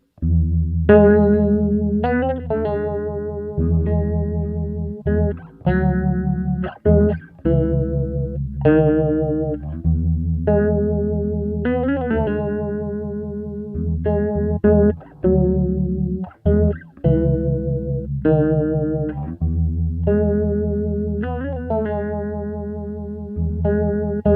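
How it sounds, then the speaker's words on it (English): A bass guitar plays a steady riff through a TC Electronic Blood Moon phaser pedal at a high rate, giving a swirling, chorus-like shimmer to sustained low notes, loud and close with no talking. "you push the rate to get kind of a pseudo chorus sound that's not quite a traditional chorus"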